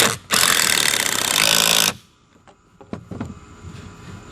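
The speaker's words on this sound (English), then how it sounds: "go ahead and shoot the screws" A power screwdriver drives a screw into 2x2 lumber for a DIY barstool, giving one loud, sustained whir of about a second and a half, followed by quieter knocks and handling clatter of the wood.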